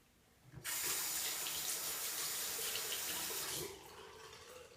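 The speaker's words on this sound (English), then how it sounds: "I'm gonna re-wet this brush a little bit." A bathroom tap gushes to re-wet a shaving brush, a steady close rush of running water that starts abruptly, holds for about three seconds, then eases off.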